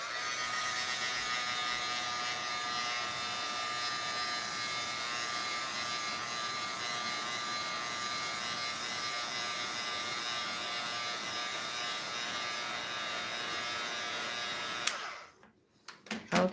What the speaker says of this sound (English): Sorry, it's going to get loud because it's just a noisy tool, and you're just going to heat it.